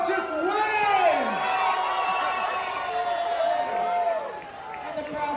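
A crowd cheering and whooping at a Puppy Bowl event at Liberty Science Center, excited shouting voices rising and falling together in a loud, sustained roar.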